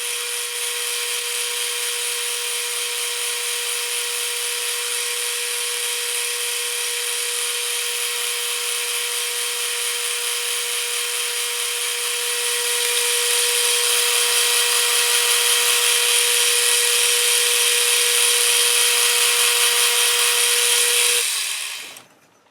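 A drill bores into aluminum while making an oil pot, a steady, high-pitched whine that holds level, grows slightly louder partway through, then stops abruptly near the end.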